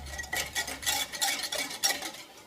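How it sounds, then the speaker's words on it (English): Warm milk with sugar and yeast being whisked in a bowl, a rapid series of light rhythmic scraping taps from the whisk against the bowl, fairly quiet and with no voices. "And then I'm going to whisk it"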